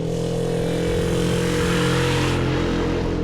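A 1967 Sears Roebuck 106 SS 100cc motorcycle riding by, its small engine buzzing loud and steady, rising as it passes close and then easing slightly as it moves on.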